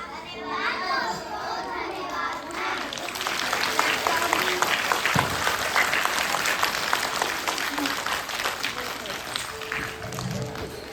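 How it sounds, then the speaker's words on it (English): A school crowd applauds steadily at a Diwali celebration and sports week prize-giving, dense clapping mixed with children's chatter and shouts that swell midway and carry on throughout. "Let's give them a big round of applause."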